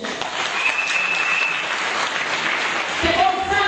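Loud, sustained audience applause fills a church-style gathering, dense clapping continuing steadily throughout with a few voices and whoops faintly mixed in.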